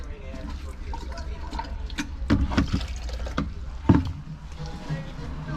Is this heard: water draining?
yes